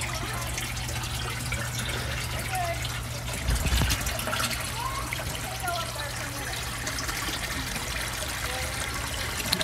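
Water trickling steadily from the drain tube of an aquaponics bed with deep-water raft beds outdoors, a continuous soft splashing flow, close by, with someone talking over it.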